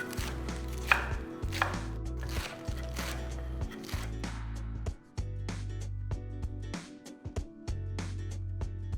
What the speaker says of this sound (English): We're just going to chop these palak leaves.